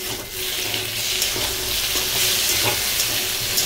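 Potato fry (aloo bhaja) sizzling in a pan, a loud, close, continuous crackling hiss with faint clicks throughout and no talking.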